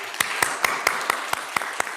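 A church congregation claps in welcome for a first-time visitor during Sunday worship, with sharp, evenly spaced claps over a light wash of scattered applause, close and fairly loud.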